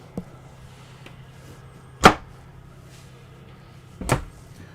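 A closet door in an Airstream Eddie Bauer 27FB trailer shuts with two sharp knocks about two seconds apart, over a quiet background hum.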